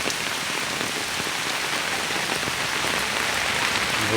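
Steady, dense rain pours on surfaces in a village, a continuous close hiss with no breaks and no voices.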